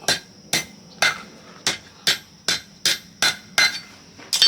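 Hot steel hammered on the face of a blacksmith's anvil while being flattened: about ten sharp, ringing metallic strikes at a steady, even rhythm, close and loud, with no talking.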